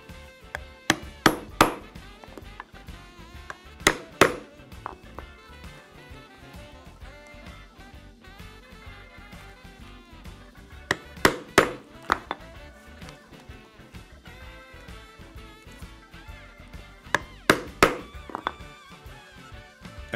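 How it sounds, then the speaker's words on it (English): A mallet drives a thonging chisel through leather for a tri-fold wallet liner, producing bursts of two or three sharp, close knocks separated by quiet pauses as the chisel moves along the stitching line. "with a thonging chisel, I will punch all the way around the outside"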